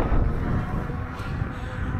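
Strong wind in northern Germany buffets the microphone with a steady, loud, low roar and rumbling gusts throughout, with no other sounds standing out.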